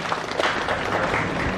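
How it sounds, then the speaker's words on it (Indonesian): Dense burst of clapping from a crowd at an agriculture deputy minister's visit, loud and close, filling the short moment without a break. "Tepuk tangan dulu Kang Eman ini."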